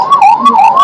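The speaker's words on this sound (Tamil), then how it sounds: "ஆம்புலன்ஸ் வந்துட்டு இருக்கு பாருங்க." Wailing ambulance siren at a crowded festival, the Chithirai Thiruvizha in Madurai, rising and falling in a loud, close sweep that fills the brief moment on its own.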